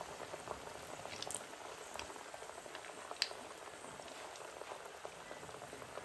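Lentil fritters (paruppu vadai, masala vadai) deep-frying in hot oil, a steady bubbling sizzle with scattered crackles and pops throughout, fairly faint and with no voices.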